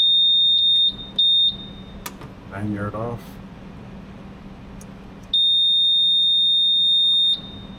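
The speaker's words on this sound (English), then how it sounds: "Now we got to reset the alarm" Piercing high-pitched electronic alarm tone from a new Suzuki outboard motor, first in short beeps, then a long continuous blare after a pause with a brief spoken phrase and handling noise as the alarm is reset.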